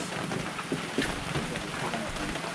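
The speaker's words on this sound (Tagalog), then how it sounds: "lumakas na yung ulan" Steady heavy rain on a farm in the Philippine countryside, a constant hissing wash, close and fairly loud, with faint thumps mixed in.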